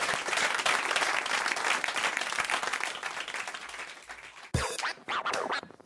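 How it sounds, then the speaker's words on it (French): A studio audience at a French radio comedy show claps and applauds loudly and continuously, fading slightly before a brief final burst. "Allez, on vous applaudit, on vous embrasse Anne-Marie et Marc."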